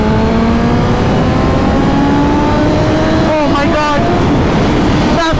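BMW S1000 RR superbike accelerating hard, a loud continuous engine whine with rising gear-change harmonics and wind roar, close to the rider, with a voice talking over it.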